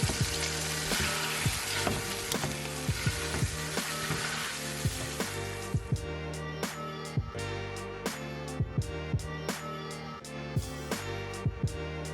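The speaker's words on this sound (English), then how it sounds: "the first step is going to be to get my ground beef cooking" Partially frozen ground beef sizzles steadily in a covered pan over lower heat, with a loud continuous frying hiss broken by repeated sharp clinks and knocks of a utensil or lid throughout.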